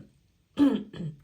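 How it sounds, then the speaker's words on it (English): A single close throat clearing, a short rough guttural rasp followed by a softer second rumble, after a brief silence. "Here I am, like, clearing my throat."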